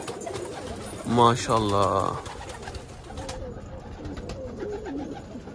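Elvan breeding pigeons coo in a loft, one clear burst of rolling coos close by at the start, then quieter cooing and rustling; someone speaks briefly at the end.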